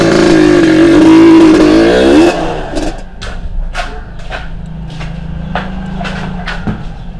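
A new motorcycle's engine revs loudly and rises in pitch for a couple of seconds, then drops to a quieter idle with scattered clicks and knocks nearby.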